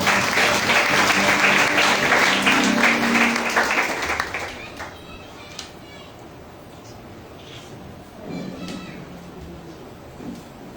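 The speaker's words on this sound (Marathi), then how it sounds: "टाळ्या वाजवून प्रभू धन्यवाद" A church congregation claps loudly and continuously to thank the Lord, the applause fading out after about four seconds to quieter room noise with scattered voices.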